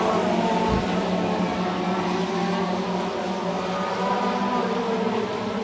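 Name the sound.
race cars driving on a dirt track during a 60-lap feature race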